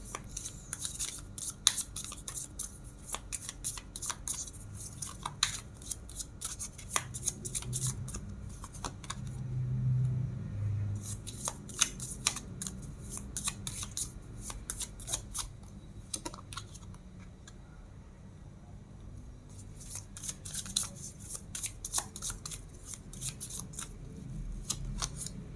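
Tarot cards being shuffled and handled, giving a steady run of crisp papery riffles and taps over about 25 seconds, close and moderately quiet with no talking.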